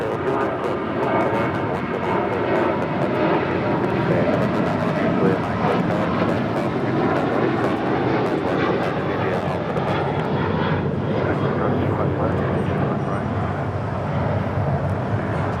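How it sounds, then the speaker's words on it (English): An Alaska Airlines Boeing 737-800 takes off at Los Angeles International Airport, its jet engines producing a loud, steady, broadband roar that holds for the whole stretch without letting up. "This is Alaska Airlines 1446 taking off to Los Cabos on a 737-800."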